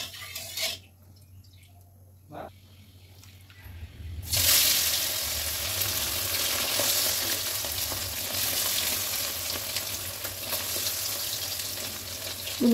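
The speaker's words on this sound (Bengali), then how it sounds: "বন্ধুরা আমি অল্প অল্প করে চিকেনটাকে ভেজে নিচ্ছি।" Chicken pieces frying in hot white oil in a large wok produce a strong, continuous sizzle that swells after a quieter opening with a few clatters, staying dense and close throughout.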